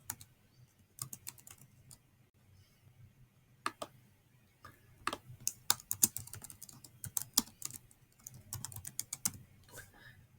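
Fingers type on a Chromebook keyboard in close, quiet surroundings, with irregular bursts of light clicking keystrokes that grow busier and denser toward the end.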